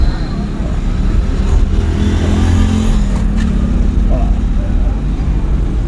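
A car accelerating in second gear during a driving lesson gives a loud, steady low engine drone close by, with a voice talking over it.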